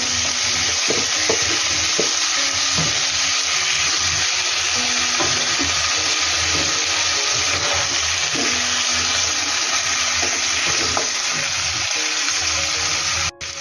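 Pumpkin stir-fries in a hot pan for a Bengali chorchori with Malabar spinach, potato and hilsa fish head, a loud continuous sizzle with steady stirring clinks and scrapes throughout, no talking.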